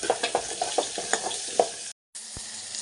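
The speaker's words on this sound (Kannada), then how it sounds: "ಈರುಳ್ಳಿ ಎಲ್ಲ ಫ್ರೈ ಆಗಿದೆ." Chopped onions sizzle and fry in a pan for drumstick sambar, with a steady hiss broken by several light stirring scrapes, then a brief silence and a renewed sizzle with a single sharp tap.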